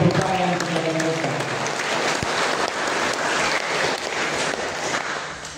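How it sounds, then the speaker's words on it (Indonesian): Applause for a young people's Catholic choir at a wedding ceremony in a church, loud and sustained across the whole stretch, a dense wash of clapping with a few tonal notes at the start. "Kita berikan tepuk tangan kepada mereka."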